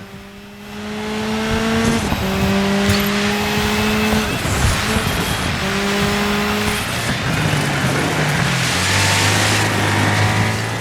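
Rally car engine droning and shifting through gears while racing on ice in DiRT 5, loud and continuous with rising and falling pitch and a final lower gear near the end.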